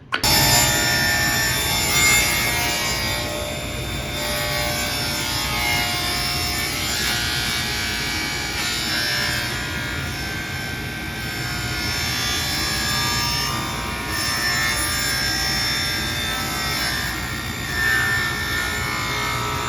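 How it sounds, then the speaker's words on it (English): Plywood milled with beveled cuts for a box pedestal with inlay: a continuous, loud, whining cutter chewing through wood that holds steady for the whole stretch, with slight surges in load and no talking. "as we go about milling this with our beveled cuts"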